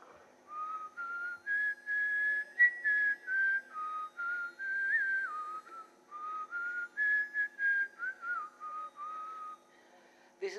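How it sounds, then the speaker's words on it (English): Someone whistles a melodic tune solo, phrases rising and falling with short pauses between them, clear and fairly close. "First I will whistle."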